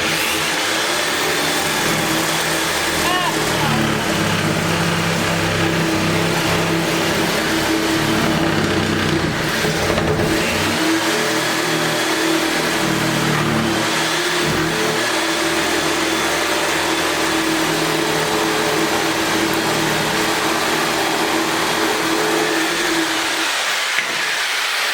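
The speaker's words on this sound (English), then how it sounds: "now we'll get the jigsaw and we'll finish cutting that out" Jigsaw cutting a pocket door lock opening through a wooden door, a loud continuous buzzing saw drone with steady rhythm that runs nearly the whole time and stops near the end.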